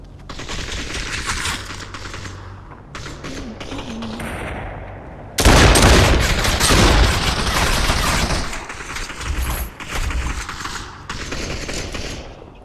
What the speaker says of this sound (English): As I've just demonstrated with many different weapons, there are many different shooting options